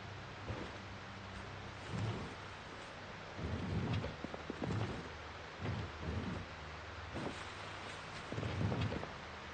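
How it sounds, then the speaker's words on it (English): Steady rain with rolling rumbles of thunder in the survival game Project Zomboid, a dense continuous downpour with several deep low bursts rising and fading throughout, no speech. "It sounds like the rain is picking up."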